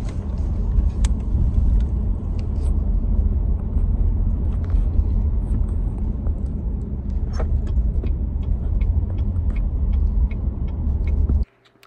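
Car interior on a busy New Year's Eve (December 31st) night in the United States, with a steady, loud low engine and road rumble throughout and small ticks and rattles, ending abruptly near the close.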